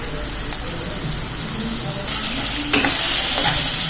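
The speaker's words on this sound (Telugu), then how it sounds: "ఇప్పుడు బాగా కలుపుకోవాలి మిక్స్ చేసుకోవాలి బాగా మగ్గాలి" Onions fry in a pan with a dense, rain-like sizzle while a utensil stirs them, close and steady with occasional clinks against the pan.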